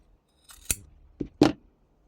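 Scissors snip through fabric during a sewing craft, making three or four crisp, close cuts separated by short pauses in an otherwise quiet space.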